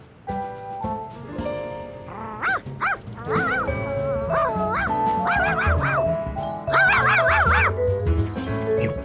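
A dog yips and whimpers repeatedly in short excited bursts, with voices and background noise mixed in.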